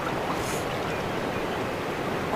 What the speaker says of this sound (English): We got rapid water.